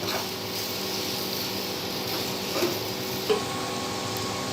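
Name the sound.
stirring macaroni in a frying pan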